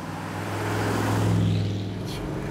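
A 1960s Mercury Park Lane runs with a steady, low rumbling engine note, fairly quiet and even, swelling slightly before easing off, with no voices.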